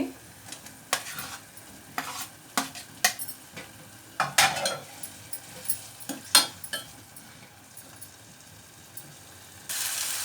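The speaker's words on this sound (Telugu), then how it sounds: "ఇప్పుడు ఇందులో ముందుగా మనం వేయించుకున్న వంకాయ ముక్కలు కూడా వేసేసుకుందామండి" Fried eggplant pieces are tipped into a simmering curry and stirred, sharp spoon-on-pot clacks and scrapes sounding in an irregular rhythm over a quiet sizzle, with a burst of hiss at the end.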